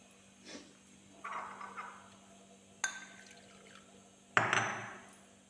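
Liquid asafoetida is poured into mango pickle in a few short bursts, each a soft splashing pour with quiet gaps between, close and fairly faint.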